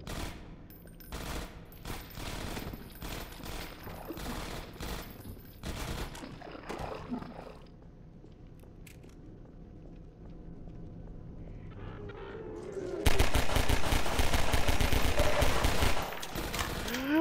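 Gunfire in the Half-Life 2 video game, loud bursts of shots cracking over game ambience early on, then a lull before a dense, sustained volley of rapid fire near the end, with no talking.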